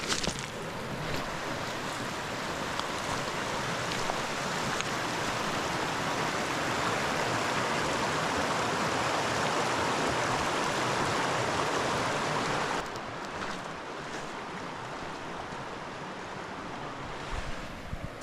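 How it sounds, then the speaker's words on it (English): Steady broadband rush of creek water flowing, continuous and fairly loud, easing slightly toward the end with some wind buffeting the microphone. "I found this creek, river, whatever you want to call it."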